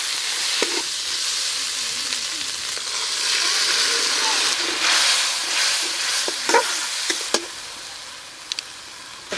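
Ginger-garlic paste with ground turmeric, cumin, coriander and chili sizzles steadily in a pan for taro root curry, with a spoon scraping and knocking now and then, loud and close with no talk.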